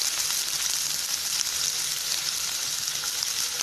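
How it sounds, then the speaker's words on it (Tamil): Chopped onions sauté in a pan for tomato kurma, giving a steady, dense sizzle that holds at an even level throughout with no voices. "வெங்காயத்தை சேர்த்து வெங்காயம் வந்து நல்லா கலர் மாறுற அளவுக்கு வந்து வதக்கி விடலாம்."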